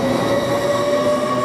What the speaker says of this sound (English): We've got the TransPennine Express now leaving.